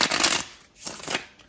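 A deck of tarot cards is shuffled in quick riffling bursts, close and crisp, with short pauses between the flurries.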